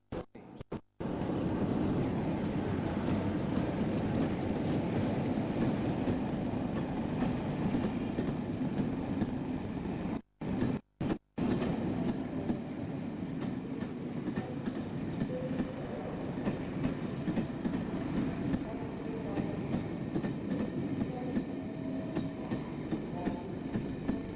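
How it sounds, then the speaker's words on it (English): A heavy Brush Type 4 diesel locomotive hauling a King's Cross to Newcastle passenger train rumbles past steadily and loudly at York, with broad low engine drone and rail noise, briefly cut twice by short dropouts. "Another brush Type 4 bringing in a King's Cross Newcastle train."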